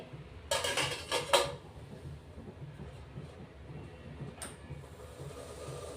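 Metal idli plates clatter and clink as they are set into a steamer pot over boiling water, a few sharp knocks early and one later over a low bubbling hiss.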